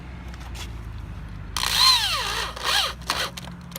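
A power drill drives screws into a DIY outdoor privacy fence: a short, close whirring run rises and falls in pitch, and then a quicker burst follows, against a quiet outdoor background.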